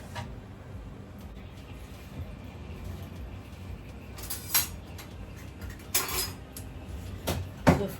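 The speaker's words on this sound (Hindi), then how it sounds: "बहुत अच्छे से काम करते हैं, बहुत अच्छे से कढ़ाई को ऐसे साफ कर देगा ये।" A spatula scraping leftover ghee out of a kadhai, a metal Indian wok, with short scratchy metallic scrapes and clinks clustered near the middle and end over quiet kitchen background, no talk.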